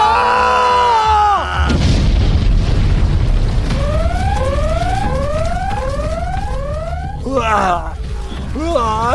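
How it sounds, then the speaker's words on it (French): A parcel bomb explodes in a video game, making a loud burst with a low rumble, followed by a run of rising synthetic whistles, while voices are heard at the start and end. "Une bombe."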